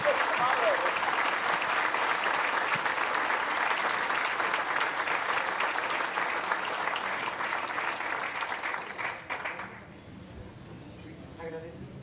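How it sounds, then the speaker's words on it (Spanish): Warm audience applause at a general assembly panel, steady and full for about nine seconds before tapering off into a quieter room. "Creo que la embajadora Hill se merece un cálido aplauso de todos nosotros."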